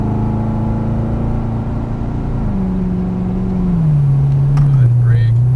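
Chevrolet Corvette Stingray engine on a race track, a steady loud mid-pitched drone that drops in pitch in steps as it shifts up under throttle, with a voice talking over it.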